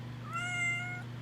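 A pet cat named Houdini gives a single clear meow, fairly faint, over a low steady indoor hum.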